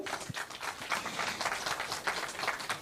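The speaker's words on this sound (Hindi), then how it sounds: "और एक बार आप सब अपने लिए ज़ोरदार तालियां बजाएं" An audience at a religious talk applauds itself, a fairly faint but steady patter of many hands clapping, heard from a distance without speech.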